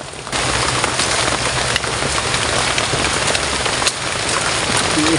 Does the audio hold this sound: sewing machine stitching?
no